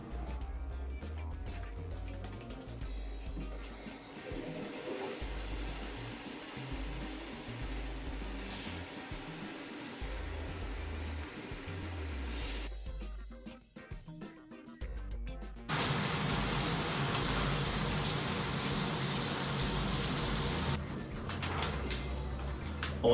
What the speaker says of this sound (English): Start a shower.